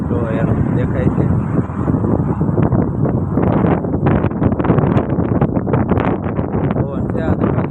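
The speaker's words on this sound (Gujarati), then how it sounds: "પવન છે આ તો બાકી ભૂકા કાઢે એવો" Strong wind blowing outdoors in Canada, buffeting the microphone as a continuous loud rumble with gusty surges, under a person talking throughout.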